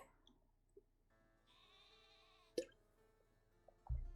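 A sheep Pokémon cry in the video game Pokémon Sword: a faint, brief electronic bleat sounding alone over quiet game music.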